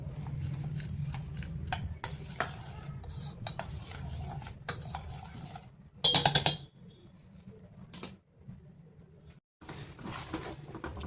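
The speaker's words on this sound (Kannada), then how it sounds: "ಆಮೇಲೆ ಚಿಕ್ಕದಾಗಿ ಹೆಚ್ಚಿಟ್ಟಿರೋ ಅಂಥ ಡ್ರೈ ಫ್ರೂಟ್ಸ್ ಇದಕ್ಕೆ ಆ್ಯಡ್ ಮಾಡ್ಕೊತಾ ಇದ್ದೀನಿ" A spoon scrapes and stirs chopped dry fruits through a mixture in a pan, giving soft clinks and scraping strokes in irregular bursts, close and quiet, with short pauses between them.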